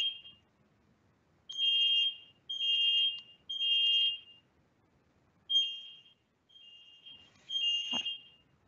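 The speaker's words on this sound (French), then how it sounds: "quand il y a une alarme, il y a un problème incendie, donc c'est tout l'immeuble qui sonne" An apartment building's fire alarm sounds in repeated loud electronic beeping bursts of about a second each, separated by short pauses, with no voices.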